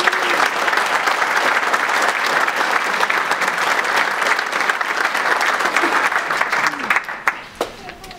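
Hall of fame ceremony audience giving a long, warm round of applause for a former Bulldog bench coach, dense steady clapping filling the room that thins out near the end, with faint voices underneath.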